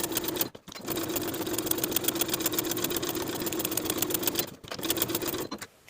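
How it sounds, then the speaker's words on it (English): Sewing machine basting the edges of dress midriff pieces, a fast even mechanical whir with rhythmic ticking that stops briefly twice before starting again. "Then we'll baste together the side and bottom edges of the midriff pieces."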